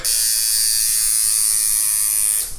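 A steady, high-pitched electric buzz from a tattoo machine runs continuously, close and loud, cutting off right at the end.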